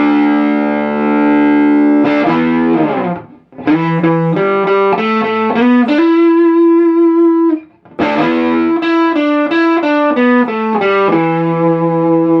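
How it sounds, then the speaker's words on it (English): Loud, heavily distorted electric guitar through a Laney Supergroup 100 Mk.1 preamp clone, with sustained notes swelling into squealing amp feedback, chaotic and close. "super quick feedback now, and even louder than before"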